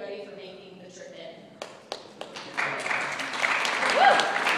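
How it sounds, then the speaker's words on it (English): Wedding guests start clapping after a speech: a few scattered claps that quickly swell into full, building applause, close and lively, with some voices underneath. "That's where we clap."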